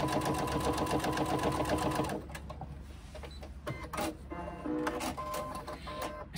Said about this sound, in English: I'm just going to stitch it on the machine so you can see